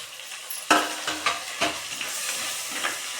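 Chopped tomato tipped into onions already frying in a pan and stirred through, a few sharp scraping strokes over a steady close sizzle, with no talk.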